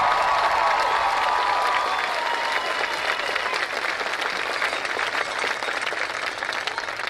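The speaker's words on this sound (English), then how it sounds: "let's please give a huge round of applause to the Wheatland Union High School graduating class of" A large crowd at the Wheatland Union High School Class of 2022 graduation bursts into sustained applause and cheering, a thick roar of clapping with faint whoops that carries on for several seconds.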